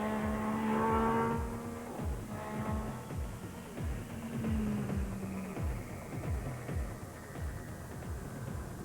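A British Touring Car Championship race car engine revs and drones continuously at Donington Park, pitch climbing and dropping with gear changes, heard from inside the car with a steady mechanical hum.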